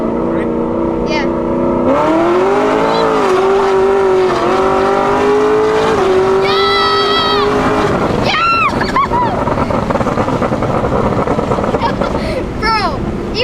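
A cammed Cadillac CTS-V accelerates hard, its engine rising in pitch through several gears with loud, close wind and road roar inside the cabin, while excited voices shout over it.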